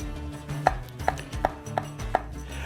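A kitchen knife chops shallots on a cutting board: about six crisp, evenly spaced strikes in a steady rhythm, close and clear with no talking.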